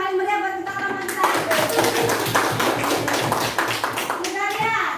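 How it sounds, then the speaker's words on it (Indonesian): A classroom group bursts into lively applause, many hands clapping fast and close, with children's voices and an adult voice speaking over it at the start and end. "Tepuk tangan yang paling meriah buat kita kelompok kita."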